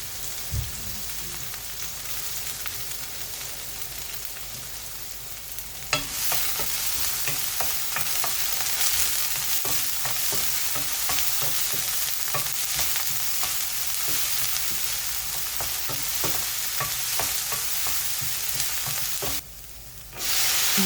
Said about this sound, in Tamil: வெங்காயம் பச்சை மிளகா போட்டு வதக்கிக்கலாம்